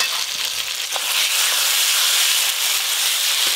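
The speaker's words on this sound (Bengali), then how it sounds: "ভেজে রাখা আলু বেগুন দেব, ভেজে রাখা আলু" Steady, loud sizzling of fried potato and eggplant dropped into hot mustard masala in a pan, a continuous bright hiss with faint clinks and stirring throughout, alone without talk.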